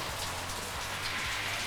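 Water spraying from a shower valve onto a vehicle and people in rain gear, a dense steady hiss of droplets pattering on the surface, close and continuous without a break.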